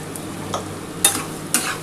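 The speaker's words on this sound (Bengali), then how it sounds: "এবার ভালো করে একটুখানি ভাজা ভাজা করতে হবে।" Frying in a pan just after a little sugar goes in, for a chicken dak bungalow curry: a steady low sizzle with three or four quick scraping stirs of a spatula, close and without talk.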